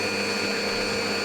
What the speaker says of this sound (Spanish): voy a enchufar el microondas